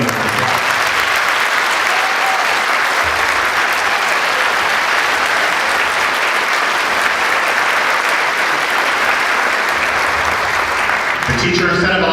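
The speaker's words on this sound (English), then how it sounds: "So let's give them a applause." A large audience at a school district State of the District event applauds national board-certified teachers, a loud dense roar of clapping sustained for many seconds before a voice breaks in at the close.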